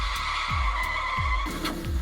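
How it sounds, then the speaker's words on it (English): A car skidding and crashing as a sound effect: repeated tire squeals and screeches over a steady engine roar, with short thudding bursts, loud and close. "in a car crash. In the car crash."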